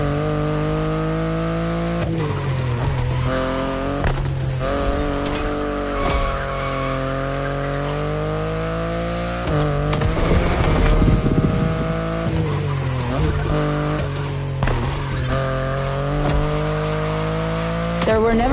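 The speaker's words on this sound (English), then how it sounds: "the i8, the sports car you're driving" BMW i8 sports car driven in the racing game The Crew Motorfest: a steady engine drone with shifting revs, gear changes and bursts of tire squeal and skidding, loud and close throughout, with a voice talking faintly underneath.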